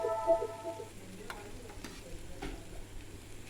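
Tomato, mint and coriander sautéing in a pan for radish chutney, a faint low sizzle broken by a few light stirring clicks and scrapes; close but quiet, without speech.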